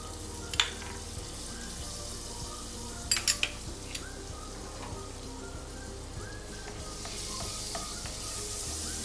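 Butter sizzles steadily in a pan while making lasagna, a soft, even crackling hiss with a few brief clinks of utensils along the way.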